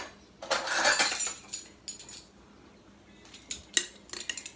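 A metal teaspoon scoops baking soda from a container for oat cookie bars, with scraping and rustling followed by several light clinks and taps of metal against the container.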